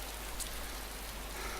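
Steady rain in the survival video game DayZ, a faint, even hiss of falling drops with no other sounds.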